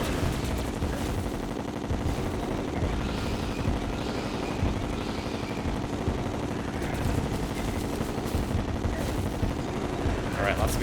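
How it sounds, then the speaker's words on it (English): Dense, continuous rapid bursts of explosions and gunfire-like blasts fill a Terraria boss fight against the Lunar Towers event, loud and unbroken throughout, with faint speech mixed in. "lots of explosions everywhere."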